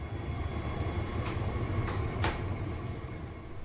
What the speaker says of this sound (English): Although the elevator descended,